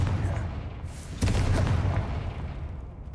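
Confringo blasting spell going off in Hogwarts Legacy, a loud booming burst that swells with a sharp crack and rumbling tail, amid game ambience.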